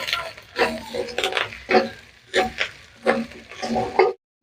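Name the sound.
frying garlic paste in pan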